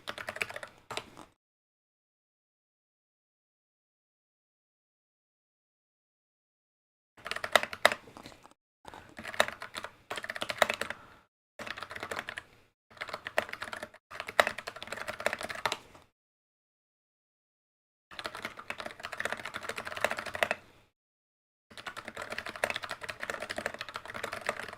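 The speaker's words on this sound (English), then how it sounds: "Sorry, just typing to Mary in a text message so she knows what we're doing." Rapid typing on a computer keyboard during a live sewing session, in several bursts of quick clicking keystrokes separated by silent pauses, close and fairly quiet with no talk.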